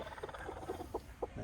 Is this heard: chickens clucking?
yes